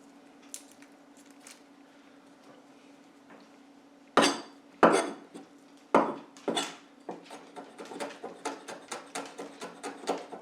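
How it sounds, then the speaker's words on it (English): Knife chopping fresh garlic finely on a board, with a few sharp heavy chops followed by a quickening, steady run of lighter rhythmic taps, close up and moderately loud, no one talking. "Chop it up nice and fine."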